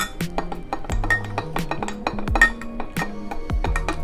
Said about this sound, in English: I'm gonna stir them up with a spoon